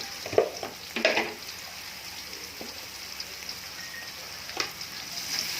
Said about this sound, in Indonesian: Aduk, tumis sampai bumbunya larut.